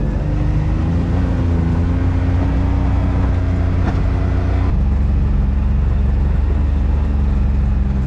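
A car drives in onto a rural property, a loud, steady close engine drone and cabin rumble with a low tone that shifts slightly midway, no voices heard.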